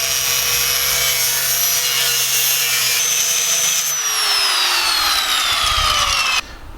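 An angle grinder cuts through a steel exhaust reducer with a loud, sustained high whine. The pitch sags partway through, and the grinding then stops abruptly near the end.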